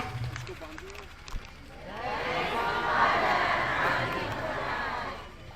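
A church congregation at a priestly ordination for a new Catholic priest erupts in a loud, swelling crowd roar of cheers and clapping that builds after a brief voice at the start, peaks mid-way and then eases off.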